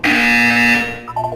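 A loud buzzer sounds in Portal 2 as one harsh sustained tone lasting under a second, followed by a few short, quieter beeps.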